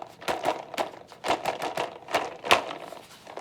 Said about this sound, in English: And the last one with the wooden beads.